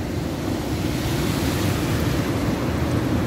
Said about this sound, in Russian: И какие шикарные волны.